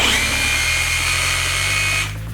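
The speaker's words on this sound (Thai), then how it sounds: "ถ้าเป็นระบบเจาะคูณอยู่ระบบที่ 2 นะครับ" TOTAL cordless rotary hammer drill (model TRHLI202287) running in hammer drilling mode, a loud steady whine with rapid hammering that runs continuously, then cuts off near the end.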